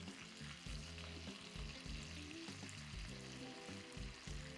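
Bacon-wrapped pork tenderloin with roasted carrots and asparagus sizzles steadily in a hot pan, a dense continuous crackle with a low humming layer beneath.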